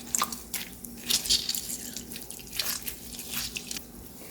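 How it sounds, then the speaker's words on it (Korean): Water drips and trickles as moisture is squeezed by hand out of food in a home kitchen, with soft wet squishes and scattered drips at close range and no talking. "이렇게 물기를 쪽쪽 짜줍니다."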